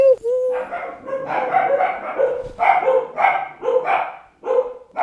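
Several dogs bark in rapid, loud bursts with yips mixed in, the barking coming in repeated clusters close by.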